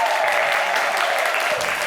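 A studio audience gives a short, dense burst of steady clapping during a French-language midday show, loud and close, with no voices over it.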